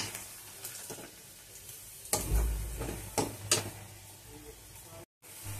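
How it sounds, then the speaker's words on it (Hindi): Chopped onion frying in a pan as it browns, a soft close sizzle with a few scraping stirs and utensil knocks against the pan, fairly quiet. "ये कटी हुई प्याज है तो इसको ऐड करेंगे। इसको ब्राउन करेंगे।"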